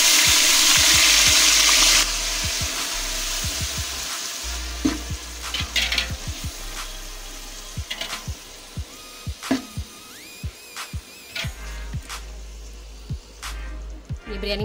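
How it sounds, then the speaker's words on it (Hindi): Tomatoes and yogurt go into frying biryani masala with a loud burst of sizzling that settles into steady frying, while a spoon scrapes and stirs the pot in repeated knocks, close up with no talk. "ये टमाटर और दही डालेंगे।"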